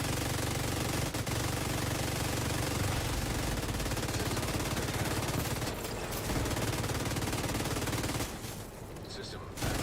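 Sustained LMG fire from The Division 2, a dense unbroken stream of automatic shots that runs nearly the whole time, loud and close, easing off briefly near the end.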